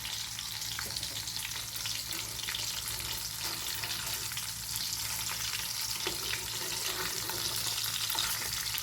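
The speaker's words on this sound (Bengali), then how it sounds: "এখন হচ্ছে মাছ ভাজতে বসিয়েছি" Fish frying in a pan of hot oil, a continuous close crackle and sizzle with occasional small pops, steady and alone without talk.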